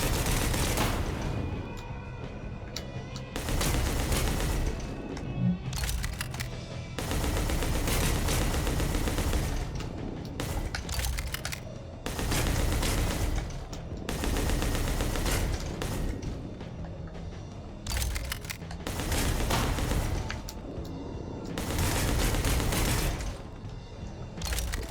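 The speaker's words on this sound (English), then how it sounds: "Aim your firearm with LT, shoot with RT." Gunfire in the video game Bounty Star: loud, dense bursts of rapid firearm shots and booms, repeated in long volleys with short gaps between them.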